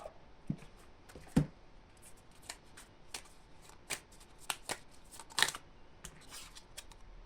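Oracle cards being shuffled for a colour oracle reading, a series of crisp riffling bursts and soft card slaps close by, otherwise quiet.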